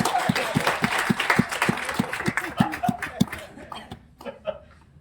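An audience at a lifetime achievement award interview claps for a woman, a dense burst of rhythmic applause that thins out and fades near the end, with voices mixed in.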